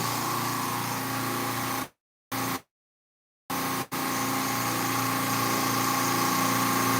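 Several old Copeland 4D refrigeration compressors on a union-made Tyler rack hum steadily and loudly up close, a constant mechanical drone with a few sharp breaks of silence.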